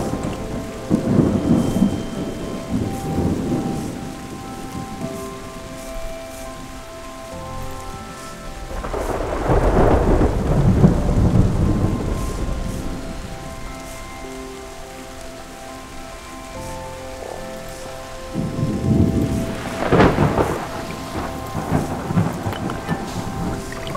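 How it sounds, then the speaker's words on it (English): A thunderstorm in the game Terra Nil: steady rain falls throughout while three heavy rolls of thunder rumble up and fade, loud and close. "It'll storm again and give me more."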